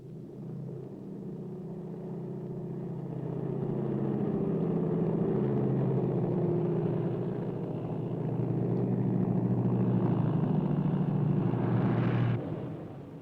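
Lockheed Super Constellation piston airliner taking off on an Antarctic transport flight, a deep rumbling drone that builds in loudness as power comes up and then cuts off sharply near the end.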